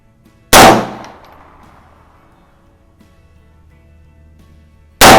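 Two sharp, loud reports from an Erma Werke LA22 .22 LR Luger replica pistol fired at an outdoor range, the first trailing off in a long fading echo, the second striking about four and a half seconds later at the very end.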